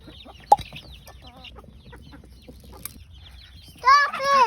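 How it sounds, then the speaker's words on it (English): Chickens on a family homestead farm cluck and call in short bursts, growing louder near the end, with a sharp knock early on over quiet background noise. "I have these chickens."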